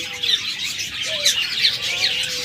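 Pet birds for sale, including a red-eyed albino pair among cockatiels, budgerigars and lovebirds, chirp and tweet in quick bright bursts nearby, several calls overlapping in a continuous chatter.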